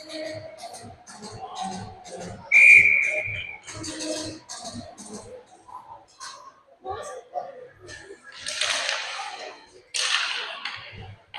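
A referee's whistle blows one short, shrill blast for offside during a hockey game, heard over steady play-by-play commentary and arena noise.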